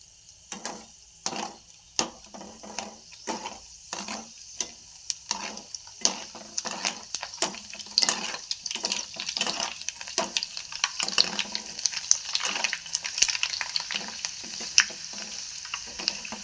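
Puris for pani puri fry in hot oil with a bubbling sizzle that builds and thickens, punctuated by sharp clicks and splashes as they are dropped in and turned. No talking is heard.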